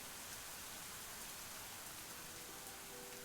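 Steady rain falls in a video game scene, a continuous soft hiss of drops with no other sound and no talking, fairly faint throughout.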